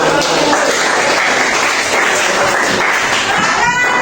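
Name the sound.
applause for a group of students in class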